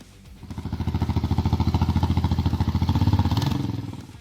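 A Suzuki Boulevard S40 cruiser motorcycle idles close by, its single-cylinder engine thumping in an even, rapid pulse that swells slightly in loudness and then eases off.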